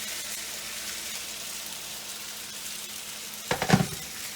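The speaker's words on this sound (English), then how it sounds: "We'll deglaze the pan with a little bit of water." A steady sizzle of paneer tikka masala frying in a pan, then a sudden louder burst of hissing and crackling near the end as water is poured in to deglaze the hot pan.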